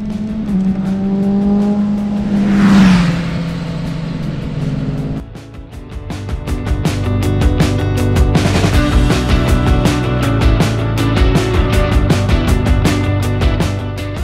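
Heard from a cyclist on a steep 7% climb, a car roars up and whooshes past close by, its engine note dropping as it goes. Loud rattling and wind noise follow.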